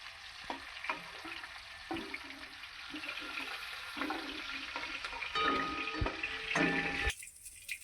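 Hilsa fish pieces sizzle in hot oil in a home kitchen as they are lifted out, a faint crackling bed broken by scattered clinks and scrapes of a utensil, ending abruptly.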